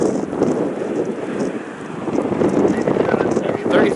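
Gusty wind buffets the microphone at Cleveland's airport on a cold, misty afternoon, a steady broadband rush that swells louder in the second half without pause.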